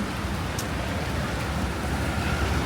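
Steady rainfall hissing over a broad noisy wash, with no voices and one brief sharp tick near the start.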